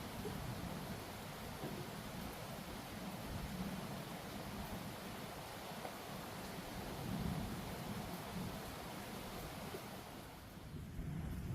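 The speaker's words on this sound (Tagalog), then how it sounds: "ulan pa yan. Yan o, lakas niyan." Steady heavy downpour roaring without pause, a dense wash of noise with deep rumbling gusts underneath, at Barr Lake State Park, Colorado.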